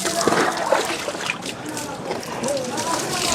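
Water splashes and sloshes while clothes are washed and someone is bathed, with steady nearby splashing throughout and people talking over it.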